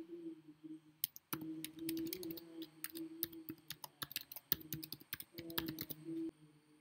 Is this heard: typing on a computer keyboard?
yes